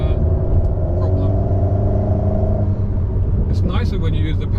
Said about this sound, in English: The gear change doesn't sound so great when it's doing its own thing